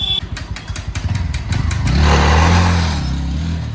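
A Bajaj Pulsar NS125 motorcycle runs just after a service, its single-cylinder engine puttering close by in a steady idle, then swelling into a louder, sustained rev midway through while the front brake is tested.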